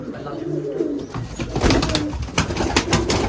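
Giribaj pigeons coo nearby in low, throaty repeated calls at a pigeon farm, with some rustling and flapping in the background.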